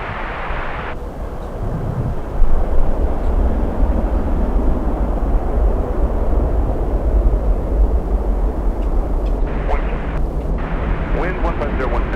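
An airplane lands on runway 9 at Miami International Airport, giving a loud, continuous broadband roar that holds steady for the whole stretch.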